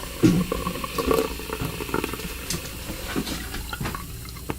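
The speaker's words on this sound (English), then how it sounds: "So let's pour it out, and I'll give you a quick scent." Spike energy drink being poured out of its can, with irregular splashing and gurgling liquid sounds, a few louder splashes early on, then a fizzy trickle close to the microphone.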